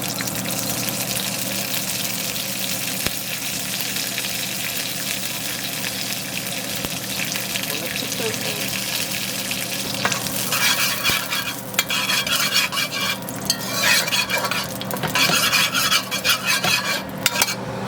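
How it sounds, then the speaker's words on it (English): Curry chicken frying in hot oil, a dense, loud, unbroken sizzle that holds throughout, with crackling spatters and light scraping growing busier toward the end, close by and without speech. "Now let's fry up."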